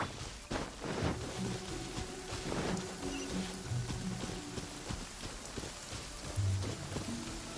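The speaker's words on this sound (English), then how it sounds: "It's raining again?" Rain falling in the video game Genshin Impact, a steady close patter of drops on surfaces with soft musical tones underneath and no talk.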